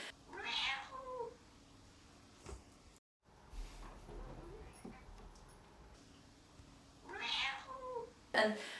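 A domestic cat meows: two drawn-out cries, one at the start and one near the end, with quieter rustling and faint sounds between them; no speech.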